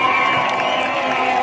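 An outdoor opposition political rally crowd at Kitengela cheers and shouts continuously, a dense, loud, sustained roar of many voices with no clear breaks.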